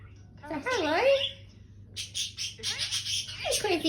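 An Indian ringneck parrot chirps and squawks indoors in short, bright bursts, with a person's voice talking close by.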